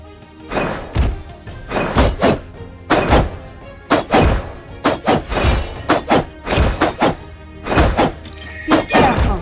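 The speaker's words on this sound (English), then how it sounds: "Your team has destroyed a turret." Heavy thuds, impacts and crashing bursts come in rapid succession as a turret is destroyed in the mobile game Legend of Ace, loud and dense with short gaps and no talk.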